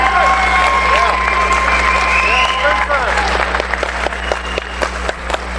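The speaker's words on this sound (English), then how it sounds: "A round of applause for Mr. Spencer Oliver." A crowd at the Transatlantic Clash US vs UK boxing event applauds and cheers for a boxing team leader, with scattered claps, whistles and shouts over a steady low hum, thinning into sharper individual claps toward the end.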